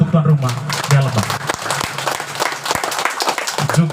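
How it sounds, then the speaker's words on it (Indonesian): Audience applauding at an outdoor political rally in Pagal, a broad steady wash of clapping over about four seconds, mixed with crowd noise and a voice over a loudspeaker. "Kita tepuk tangan dulu untuk tuan rumah Bea Lebah."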